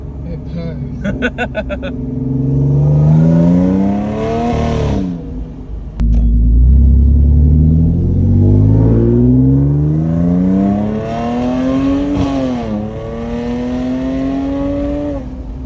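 An Audi engine revs and rises through the gears, then drops with crisp downshift blips and a throaty rumble. A voice talks over it.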